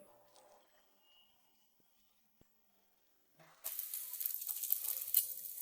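An egg hits a hot pan and fries with a sudden bright sizzle that starts after a quiet stretch and carries on close and steady.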